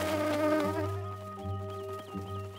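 Cartoon wasps buzz in a steady droning hum with wavering pitch, fairly close and continuous, set in a spring forest scene with no talking.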